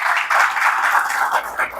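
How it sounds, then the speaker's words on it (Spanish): A church congregation applauds together, a dense wash of hand clapping that carries on steadily for a couple of seconds, with no voices rising above it. "¿cuántos le pueden dar un aplauso al Señor?"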